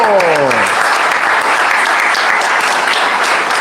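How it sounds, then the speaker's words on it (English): Loud, steady audience applause at a school class reunion, filling the whole stretch, dense and continuous, with a brief voice trailing off at the very start. "A round of applause for"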